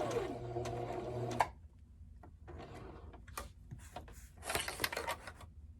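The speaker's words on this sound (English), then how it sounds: "I'm going to back stitch. I'm going to stitch forward." A sewing machine stitches a zipper pouch in one quick, close burst of rapid mechanical whirring that stops after about a second, leaving soft handling noises.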